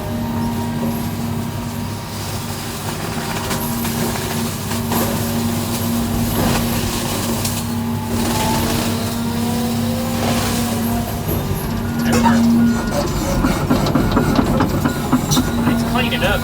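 A John Deere 210G excavator drives an FAE mulcher head, giving a steady, loud mechanical drone with a strong sustained hum and rough grinding that swells near the end, continuous throughout.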